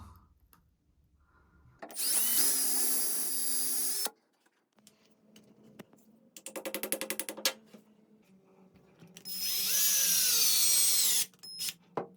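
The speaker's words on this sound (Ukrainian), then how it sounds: "свердлимо отвори в стіні спочатку в плитці" A power drill bores holes through bathroom wall tile, with two long high-pitched whining bursts and a shorter rattling drilling stretch between them, separated by quiet pauses with faint handling noise.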